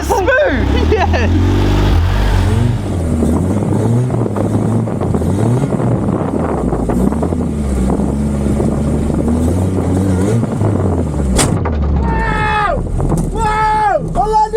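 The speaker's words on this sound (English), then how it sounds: "I jumped the car!" A car launching off a huge home-built jump and landing, heard as loud, continuous engine roar with heavy wind buffeting on the microphone, with excited shouting over it near the end.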